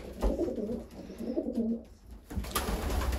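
Breeding pigeons cooing close by near a nest, soft rolling coos repeating in uneven phrases with a brief pause before resuming.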